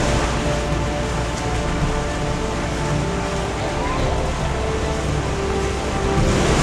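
A waterfall roars steadily at night, a dense, loud, unbroken rush of water that fills the whole scene without pause.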